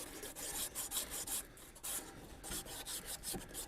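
A metal shaft gets a quick light rub to ease the fit of a new piece, heard as quiet, rhythmic rasping strokes repeating in short bursts with brief pauses between.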